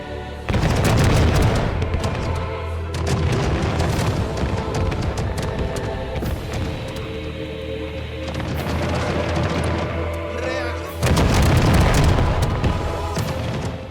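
Dense, loud volleys of musket fire from a 1634 pike-and-shot battle at Nördlingen in a Total War game, continuous crackling booms and rumbling blasts with heavier surges at the start and end.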